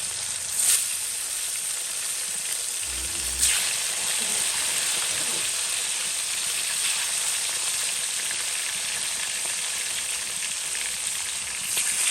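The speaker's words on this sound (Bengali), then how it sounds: "এই মাছটা কিন্তু ভাজা হয়ে গেছে অলরেডি" Oil sizzles and crackles steadily as fish fries in a pan, a continuous loud hiss with a few brief pops.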